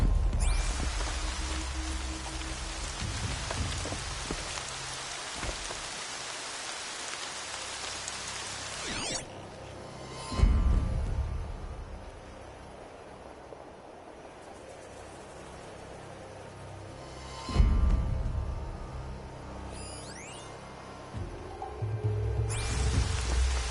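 Rain falling in a video game, a steady hiss of rainfall across the whole stretch that drops away and swells back in places, with low rumbles and occasional bursts over it.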